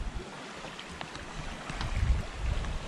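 A sailboat makes about 5 knots at sea in a fresh wind, with low rumbling water and wind noise on the hull and a few faint clicks, steady throughout with no voices.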